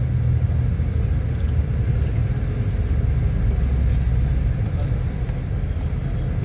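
A dense, continuous low rumble of idling and crawling engines fills a traffic jam in the Hub bazaar near Karachi, steady and close, heard from inside a coach with no clear voices.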